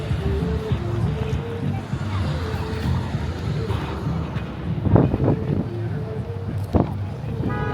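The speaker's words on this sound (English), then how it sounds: "a little windy here at Columbus Circle" Gusty wind at Columbus Circle in Midtown Manhattan on Thanksgiving Day parade morning, a steady rumbling roar buffeting the microphone, with city traffic and crowd murmur underneath and a couple of louder gusts.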